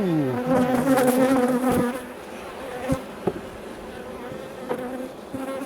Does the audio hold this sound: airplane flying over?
no